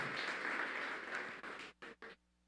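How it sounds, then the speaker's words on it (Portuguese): Applause from a church congregation, a dense steady wash of clapping that thins and breaks into a few short bursts before fading out. "Você podia dar um aplauso a Jesus"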